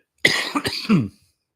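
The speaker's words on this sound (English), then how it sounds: "I'm really sorry for the coughing." A close, loud burst of coughing, two or three harsh coughs in quick succession, then silence.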